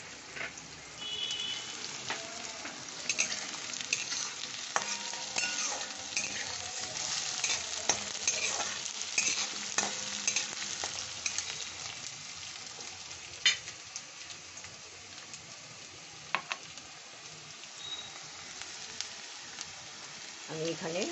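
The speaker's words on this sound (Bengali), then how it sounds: "এটা আস্তে আস্তে কষি, খুব একটা বেশি আওয়াজ দেবে না" Chicken coated in ginger-garlic paste stir-fried slowly in a pan for chicken do pyaza, a soft, low sizzle broken by scattered stirring scrapes and clinks, fairly quiet and close.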